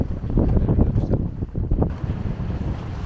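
Strong wind gusts roar across the microphone aboard a sailboat as the wind picks up, with water sloshing against the hull beneath, loud and continuous with no talk.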